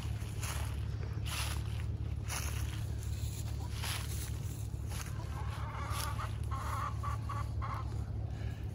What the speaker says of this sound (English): I don't know if you could hear those chickens